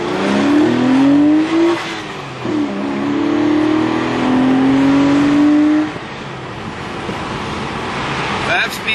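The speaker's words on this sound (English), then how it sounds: "you can hear the engine come up on song" A Porsche 993 Carrera fitted with a Fabspeed Cup intake revs loudly up through the gears, pitch climbing in several rising pulls with brief dips at each shift, then settling to a steadier drone.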